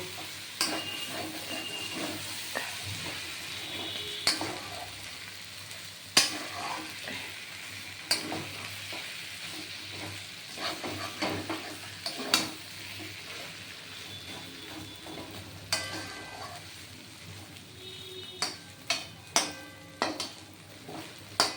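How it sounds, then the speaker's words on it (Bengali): Bottle gourd curry with prawn heads and a little ghee is stirred in a pan on the stove, producing a soft continuous scraping and low sizzle broken by sharp clicks of the spatula against the metal. "এবার ঘি দিয়ে নাড়াচাড়া করে নামিয়ে নেব"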